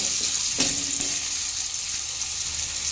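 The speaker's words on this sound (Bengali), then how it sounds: "আলুগুলো একটু ঢাকা দিয়েও ভাজতে পারেন, সেদ্ধ হয়ে যাবে" Potatoes fry in oil in a covered pan with a steady, even sizzle and a faint clink of a utensil near the start.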